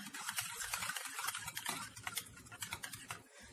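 Finely chopped mint being stirred into a mixture in a bowl, producing soft continuous scraping and light wet patter, faint and close, without talk.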